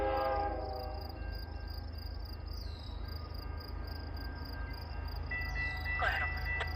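CN GE GEVO locomotive horn sounding briefly at the start and again near the end, over a steady low rumble and insect-like high chirping, with some distant background noise.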